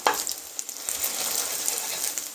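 Egg frying in a pan while being prepared for chicken noodles, a steady close sizzle with soft stirring scrapes and no talk.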